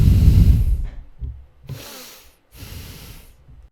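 A recorded exhale played back through a microphone comes as a soft breathy rush of air with snort-like bursts, a strong gust first, then two shorter breaths after brief pauses.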